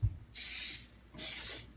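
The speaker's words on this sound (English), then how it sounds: "I need a little bit of cooking spray because even though these silicone liners are helpful," Cooking spray hisses into silicone muffin liners while strawberry muffins are being prepared: two close, bright aerosol bursts of about half a second each, separated by a short pause, with no voices.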